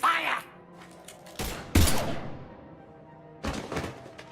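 Gunfire in Mass Effect 3 comes as a few heavy, punchy shots and bursts with dull impacts, separated by quieter gaps of game ambience.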